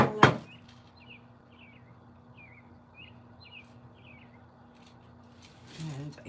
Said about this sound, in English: And I hear the birds chirping outside.